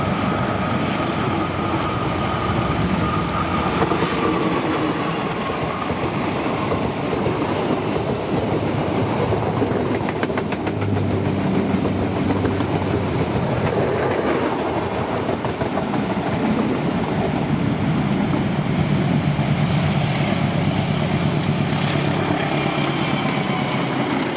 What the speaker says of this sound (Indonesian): Ternyata bertemu kereta api Gajah Wung Sau